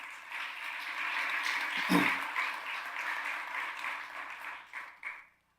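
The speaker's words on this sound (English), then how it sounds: "Now I think we need to give them another round of applause for choosing Guilford County." An audience at a county State of the County address gives a round of applause, a steady wash of clapping that swells and then tapers off to silence.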